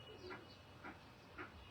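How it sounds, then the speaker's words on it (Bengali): Pigeons coo from nearby rooftops in a village setting, three soft, brief calls spaced about half a second apart over a steady low background hum. "বাহ, কবুতরের ডাক শুনছে এখান থেকে"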